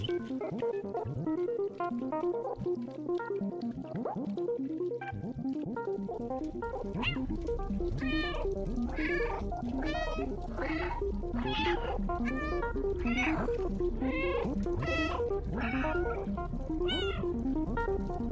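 Repeated cat meows from the video game Stray, voiced by the developer's real cat, come in a quick run of distinct calls over a steady low background hum, close and fairly loud.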